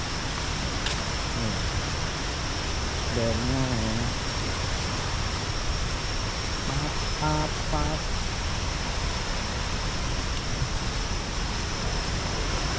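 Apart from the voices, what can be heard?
waterfall flowing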